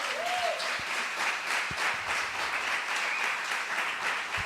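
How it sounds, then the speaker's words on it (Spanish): A church congregation bursts into sustained applause at an evangelistic service, a dense, even wash of many hands clapping that fills the whole stretch with no voice rising above it. "Denle un aplauso a Cristo"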